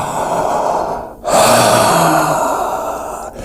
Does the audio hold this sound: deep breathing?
yes